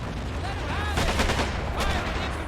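Artillery and gunfire on Iwo Jima in Men of War: Assault Squad, heard as a dense rumbling battle bed with a burst of rapid shots in the middle and a lone later blast.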